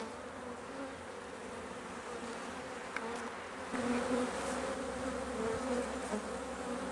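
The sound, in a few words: honey bees buzzing in hive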